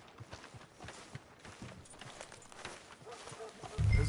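Horse hooves clip-clop at a walk in Red Dead Redemption 2, a soft, steady patter in the foreground, with a louder low thump near the end.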